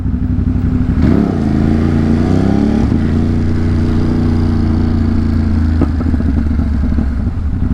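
A motorcycle engine rumbles loudly nearby at Triumph Brooklyn, revving up and down with a throaty, uneven growl before settling to a steady drone.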